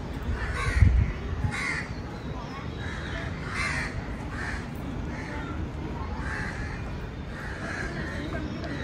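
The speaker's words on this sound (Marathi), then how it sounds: "कावळेच दिसतात मला तर, मग कावळाच आहे हा।" Crows caw repeatedly in a shady, quiet park with bird information signs, a series of rasping calls at a moderate distance over a low background hum.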